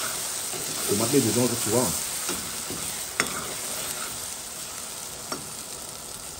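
Rougail with liver pâté sizzles and fries in a pan, a steady crackle under occasional stirring scrapes, while someone speaks briefly over it.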